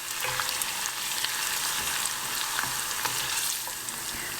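Ginger and garlic fry in oil over lowered heat for Chinese chili oil, a steady bright sizzle that holds evenly throughout with a few faint crackles and stirring clinks, close and alone without any talk.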